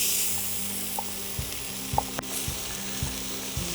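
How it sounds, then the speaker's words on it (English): A large sweet onion sautés in about five tablespoons of butter, giving a soft, steady sizzle with a few light taps and scrapes of a utensil against the pan. "we're gonna take about 5 tablespoons of butter, and we're gonna saute 1 large sweet onion"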